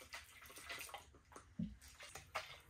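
Water poured onto a buffed coin door panel from a 1951 Vendo 39 Coke machine before wet sanding, giving soft close splashes and trickling in a few short bursts against a quiet room.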